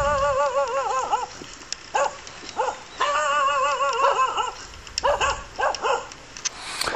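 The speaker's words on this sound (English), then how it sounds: "The pastor's dog." Behind a native church in Port Hardy, the pastor's dog whines and yelps in a run of high, wavering whimpers. The cries come in repeated bursts with short gaps, close and clear, and no one speaks.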